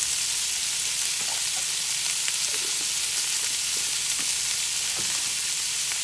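Green beans with minced garlic sizzling in a hot pan, a steady close crackle and hiss with a few small pops and stirring sounds, with no talking.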